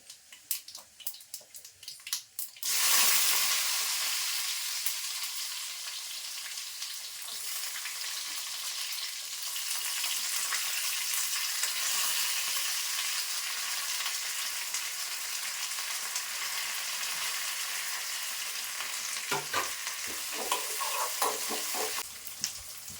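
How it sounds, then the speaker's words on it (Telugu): Tempering spices for sambar hit hot oil with a sudden loud burst of sizzling that then holds as a dense, steady hiss, with a few light clatters of utensils before and near the end, no voices. "మనం ఇంకా పోపు పెట్టుకుందాం గైస్"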